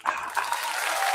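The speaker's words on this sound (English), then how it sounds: "I'm clapping" Brief burst of clapping from a live outdoor radio broadcast crowd at a restaurant on Lake St. Clair, a dense patter of hands lasting about a second.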